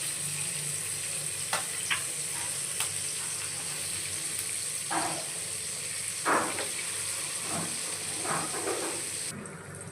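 Fish frying in a pan, a continuous close sizzle broken by a few scraping stirs and clinks of the utensil against the pan.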